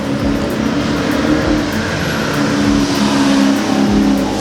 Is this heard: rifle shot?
no